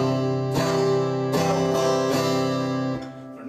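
Strummed acoustic guitar chords, firm and near, moving in quarter notes with two fast eighth strokes on the third beat before the last chord fades out, no voices present.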